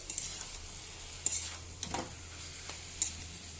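Pumpkin pieces are stirred in a hot cooking pan: a utensil scrapes and knocks against the pan in a few distinct strokes over a quiet background sizzle, with no talking.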